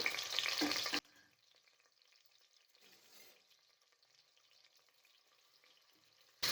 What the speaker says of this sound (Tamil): அதை சேர்த்து நல்லா பொன்னிறம் ஆகிற வரைக்கும் வதக்கி எடுத்துக்கலாம்